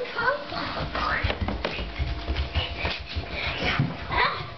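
Dogs indoors whimper and whine in short uneven bursts, close by and fairly loud, mixed with footsteps, tapping and people talking nearby.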